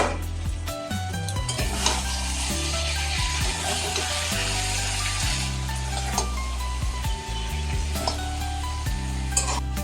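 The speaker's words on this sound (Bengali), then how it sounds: "এবার একটু জল দিয়ে দিচ্ছি। ঢেকে সিদ্ধ হতে দিচ্ছি।" A pot of taro stolons with hilsa head simmers and sizzles steadily. Soft clinks and stirring sounds come through, and a tonal musical background runs underneath the whole time.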